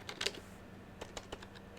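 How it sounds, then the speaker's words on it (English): Typing on a wireless computer keyboard during a game livestream: a quick burst of key clicks near the start, then a few scattered separate keystrokes, close and fairly quiet with no voices. "I think my wireless keyboard's kind of not sure what it's doing there."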